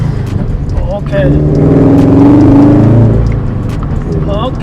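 A Toyota GT86 fitted with a Perrin cold air intake drives along, its engine note swelling and rising in pitch under throttle, then easing off, while someone talks over it at the start and the end.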